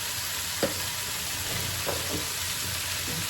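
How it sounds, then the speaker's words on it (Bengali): Onion, green chili and turmeric frying in a pan at home, a steady soft sizzle with a few brief scraping stir strokes spaced through it. "এখন নেড়ে দেবো সুন্দর করে।"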